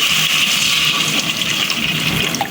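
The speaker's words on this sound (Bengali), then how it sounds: "পানিটা দিয়ে দিলাম" A little water pours into a hot pan of fried onions, a loud rushing hiss and splash that continues steadily throughout.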